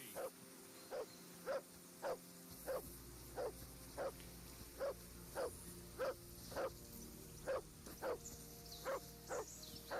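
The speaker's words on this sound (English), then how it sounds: "Henry, that barking's driving me nuts. Get your dog to shut its beak" A dog barks repeatedly in the video game Kingdom Come 2, sharp single barks spaced at a steady rhythm about every half second to second, moderately near, over a quiet game ambience.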